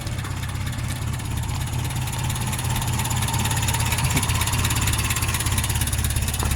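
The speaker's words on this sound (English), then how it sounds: "just so it doesn't sit here and just listen to that idle" A Nissan 720 pickup with a Weber DGAV 32/36 carburetor idles steadily, a smooth low rumble with even mechanical vibration, close and continuous, no voices.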